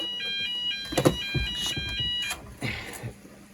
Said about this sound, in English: Oh no, the detector went off.